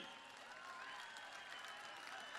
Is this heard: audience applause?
yes